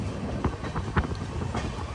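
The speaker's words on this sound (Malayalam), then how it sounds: "SMM ഹാവേരി റെയിൽവേ സ്റ്റേഷനിലേക്ക് നമ്മുടെ ട്രെയിൻ ഇതെത്തിക്കൊണ്ടിരിക്കുകയാണ്" The Jan Shatabdi Express rolls into Haveri station on the Hubballi to Bengaluru run, wheels knocking in a few uneven clacks over a steady low rumble of moving coaches, close and moderately loud.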